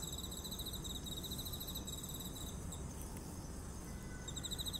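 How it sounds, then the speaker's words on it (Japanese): Bell crickets (suzumushi) chirp continuously during an evening walk outdoors, a faint high-pitched trilling in repeated pulses over a steady low rumble of background noise. "スズムシの 鳴き声が 取れてると嬉しいな。"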